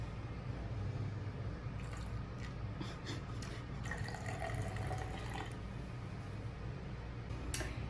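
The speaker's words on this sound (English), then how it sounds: "After having a thin layer of dish soap, next add your water. Slowly." Water poured slowly onto a thin layer of dish soap in a container, a quiet, steady trickle and fill with small splashy bursts midway, close and continuous.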